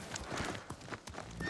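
Quiet, uneven clopping of hooves as horses walk in the video game Ghost of Tsushima, a few soft thuds close together against a faint ambient background.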